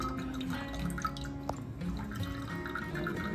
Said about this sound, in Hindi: नारियल पानी है। हाँ, कम निकल रही इसमें